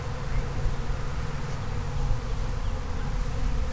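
A honey bee swarm buzzes steadily and densely at close range during an attempt to rehive it outdoors, a continuous loud hum with no talking.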